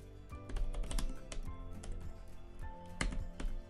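Fingers type on the backlit keyboard of an HP Pavilion x360 14-inch laptop, producing a quick, uneven run of soft, close key clicks with a few louder taps, and no one speaking.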